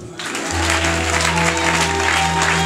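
A church congregation cheers and applauds for Jesus in a steady, dense wash of clapping and voices that swells in after a brief pause and holds loud throughout, with a low sustained organ or keyboard tone underneath.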